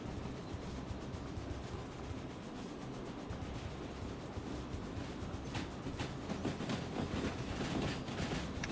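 A train in Derail Valley picks up speed, a low steady rumble with faint rhythmic rail clatter building toward the end, with no talk over it.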